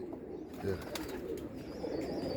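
Pigeons coo softly at close range, a low throaty murmur that rises and falls over a couple of seconds against a quiet background.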